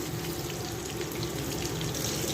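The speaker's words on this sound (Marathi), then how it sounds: "यामध्ये आपण वडी टाकूया. छान लालसर गोल्डन कलर येईपर्यंत ह्या तळून घेऊया." Soybean vadi pieces frying in hot oil for a soybean vadi curry, a steady, dense sizzle that holds at an even level throughout, with no voices over it.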